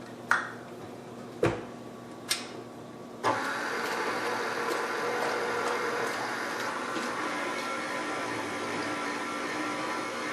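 Agave and other thick ingredients being blended into almond crunch cookie dough: a few sharp clinks, then a steady, close mechanical whirring that runs without a break.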